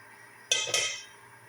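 Metal pots and utensils clink twice in a kitchen while shorba soup is being cooked, two sharp bright knocks ringing briefly over quiet background hum.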